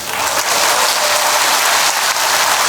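Steady, loud crowd applause at a political rally, a dense continuous clatter of clapping that holds for the whole stretch with no voices over it.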